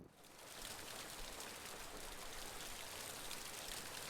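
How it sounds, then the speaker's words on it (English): Steady rain falls in the video game Kynseed, a dense, even hiss of rainfall that swells in after a quiet first half second and continues unbroken, with no voices. "Rain has come"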